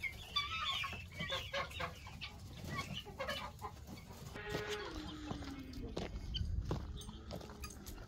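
Hens cluck and murmur close by in a busy farmyard, with scattered bird calls and rustling, a few soft clucks overlapping throughout.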